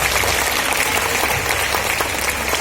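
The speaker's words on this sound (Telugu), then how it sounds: "అందరూ గట్టిగా ఒకసారి చప్పట్లు కొట్టి ఆ దేవుడిని స్తుతించుదాం." A church congregation clapping loudly in praise during a worship service, a dense, continuous roar of many hands up close that fills the whole stretch with no pause.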